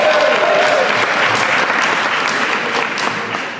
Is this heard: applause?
yes